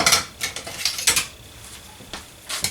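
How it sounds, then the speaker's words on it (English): A small spoon scrapes and clinks against a bowl in several irregular bursts as dressing is stirred through mozzarella, tomatoes and other vegetables, close and fairly clear with quiet gaps between strokes. "I'm just going to stir this up so that dressing gets on all of our mozzarella and our veggies here"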